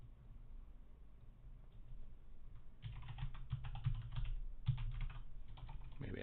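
Typing on a computer keyboard, quiet and close: soft scattered keystrokes at first, then two denser bursts of rapid clacking over a low background hum, with no speech.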